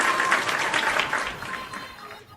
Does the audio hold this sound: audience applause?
yes